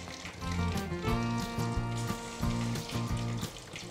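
Chicken leg pieces fry in hot oil with a steady loud sizzle and crackle, close up, with a low electric hum running underneath.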